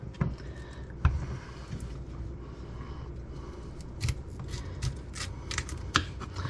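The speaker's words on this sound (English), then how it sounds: "we can still cut this a little bit deeper" A knife cuts into the dense core of a quartered cauliflower on a board, giving a series of crisp, close snaps and crunches scattered through a steady faint background.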